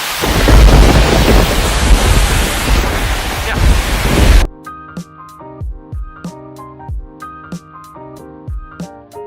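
A heavy August thunderstorm in Greenville, South Carolina, with loud, dense rain roaring for about four seconds, then cut off abruptly as music takes over.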